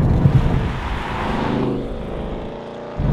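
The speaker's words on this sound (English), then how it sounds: "And the engine also sounds good." 2024 Ford Mustang Dark Horse V8 engine rumbles loudly with throaty revving, then the note fades and drops away before a brief swell at the end, heard alone without speech.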